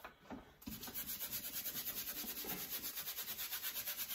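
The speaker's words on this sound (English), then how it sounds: "take my old brush and" An old paintbrush rubs mixed paint onto a canvas during canvas preparation, a steady rapid back-and-forth scrubbing close to the mic, evenly rhythmic throughout after a brief pause at the start.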